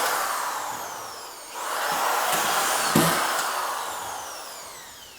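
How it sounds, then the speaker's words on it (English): A power drill drives the last screws into a Warmboard radiant-heat floor panel, its motor whining in long rising and falling sweeps, loud and close, with a brief thump midway. "You just saw the last 2 screws go in."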